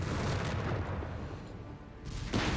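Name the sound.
white phosphorus barrage on Panzers in Company of Heroes 3 video game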